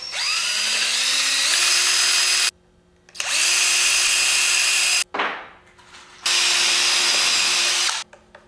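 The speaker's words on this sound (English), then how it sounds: "Now I'm just putting in an extra flathead screw for support against the back." A power drill drives a flathead screw into a scratch-built Toyota RC truck, spinning up in three loud, close bursts separated by short pauses, its whine rising in pitch as each burst continues.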